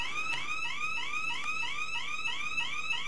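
A house alarm blares in a rapid repeating sweep of rising tones, loud, continuous and close, with no talk over it.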